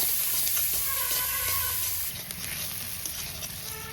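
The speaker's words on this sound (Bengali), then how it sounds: "এবার পেঁয়াজটা ভালো সুন্দর করে ভেজে নেব।" Onions with turmeric and salt fry in a pan, producing a continuous close sizzle with light stirring clatter, steady throughout with no talk.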